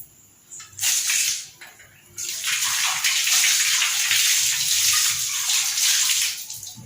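Water gushes and splashes steadily into a basin, loud and close, with a brief pause before the flow resumes and continues.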